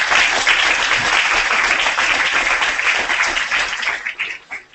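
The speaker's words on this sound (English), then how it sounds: "give a big round of applause to that webcam over there" A festival audience at a digital journalism event breaks into dense, loud applause that holds steady for several seconds and then thins out as the clapping fades.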